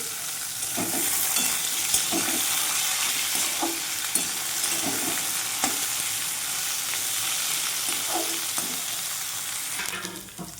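Bottle gourd stalks stir-frying in a pan, with a constant loud sizzle broken by repeated scraping and clinking of the spatula against the pan, close up and with no talking.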